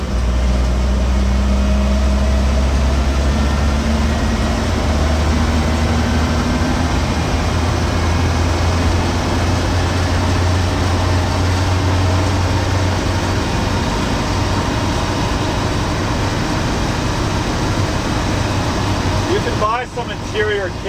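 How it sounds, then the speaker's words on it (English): A 1959 Land Rover Series II 109 pickup driving along, its engine droning steadily while loose aluminum body panels rattle and buzz continuously, with someone talking over the noise. "There's a lot of aluminum metal panels that vibrate that make quite a racket."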